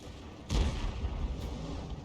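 Tank cannon shells fire in a tank video game, the AMX 13 105 taking on a Churchill 7: one heavy boom, then a fainter second shot about a second later over a low, steady rumble.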